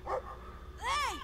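A big dog in the video game Brothers: A Tale of Two Sons lets out a brief yelp, then a louder, drawn-out rising and falling bark-howl close by.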